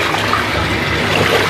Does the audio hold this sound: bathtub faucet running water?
yes